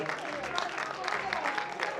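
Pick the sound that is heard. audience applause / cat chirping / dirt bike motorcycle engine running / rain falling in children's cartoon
audience applause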